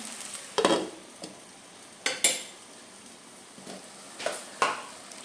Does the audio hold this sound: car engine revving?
no